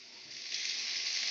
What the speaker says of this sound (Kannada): ಚೆನ್ನಾಗಿ ಕೆಂಪಾಗೋ ತನಕ ಹುರಿದು